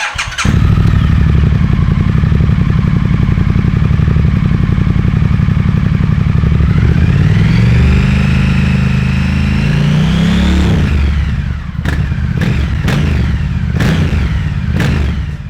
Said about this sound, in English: we thought we'd let you hear how the stock exhaust sounds